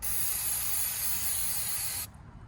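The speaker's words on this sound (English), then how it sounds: "Give it a healthy little spray." A steady, close hiss of aerosol cleaner spray runs continuously for about two seconds, then cuts off abruptly, leaving faint low background rumble, while cleaning a part from a 2008 Range Rover Supercharged.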